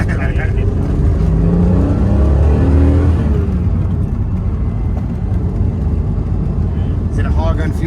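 A Ferrari Testarossa engine revs loudly and continuously as the car drives on a road past houses, a rising growl that fades back toward the end, with a person talking over it.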